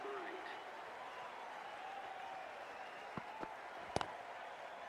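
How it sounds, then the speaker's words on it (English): Faint, steady crowd applause in a cricket video game during an India versus England one-day international, a soft wash of clapping with a few brief sharper sounds near the end, and no talk. "they'll receive a warm reception from the crowd"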